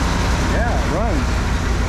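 A 1977 Jeep Honcho truck engine with a Holley carburetor idles slightly high, a steady, loud close drone, while a person speaks over it briefly.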